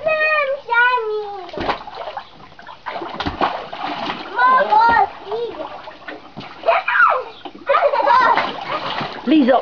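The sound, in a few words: water splashing from children's water guns in a pool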